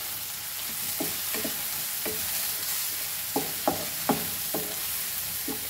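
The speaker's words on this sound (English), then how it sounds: "So only our masala has to fry nicely." Masala for mutton paya (trotters) curry fries in a ghee and oil mix, giving a steady soft sizzle broken by a few sharp scraping stirs of the spoon.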